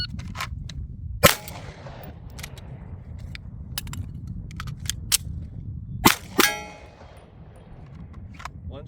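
A pistol fires during a timed holster draw drill with a reload, with three loud, sharp reports spread out in the clip: one early, then two close together near the end, among faint clicks and metallic handling sounds.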